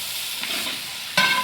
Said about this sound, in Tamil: வெங்காயம் நல்லா கோல்டன் ப்ரௌன் ஆகிறத நல்லா வதங்கி வரணும்.